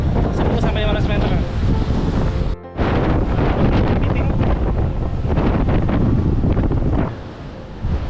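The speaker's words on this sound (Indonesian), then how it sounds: "ombak laut yang sangat ganas" Fierce sea waves crash against a rocky coast at Tolanamon beach on Rote, a loud continuous roar of surf and spray heavily buffeted by wind noise on the microphone, with one brief dip partway through.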